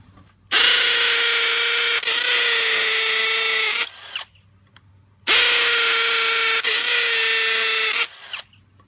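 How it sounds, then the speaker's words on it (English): A hammer drill bores into concrete in two long, loud bursts of about four seconds each, a harsh buzzing whine with a rapid hammering rattle, separated by a short pause. "you'll hear the sound of the actual hammer drill"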